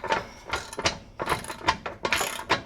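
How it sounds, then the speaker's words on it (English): An old-fashioned ratcheting wrench loosens a tight bolt during a Can-Am teardown. It gives quick, close bursts of clicking ratchet strokes, about seven or eight in under three seconds, with no talk. "Old-fashioned ratcheting wrenches."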